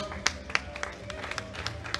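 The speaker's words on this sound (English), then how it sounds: "With big applause of the audience" An audience claps at a world classic powerlifting championship in Amsterdam, with steady moderate applause and a few sharper individual claps standing out, heard from a distance.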